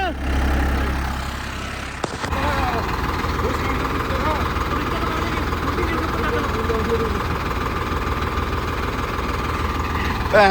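A Swaraj 855 tractor engine runs close by with a steady, rough, continuous drone, briefly interrupted by a sharp jolt near the start before settling back into an even rumble.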